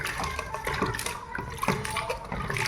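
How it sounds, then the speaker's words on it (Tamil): Sliced cassava being washed in a basin of water for homemade chips, with steady splashing and sloshing close by throughout and no talk. "கிழங்கு வந்து நம்ம தண்ணியில் போட்டு வாஷ் பண்ணி எடுத்துக்கலாம்"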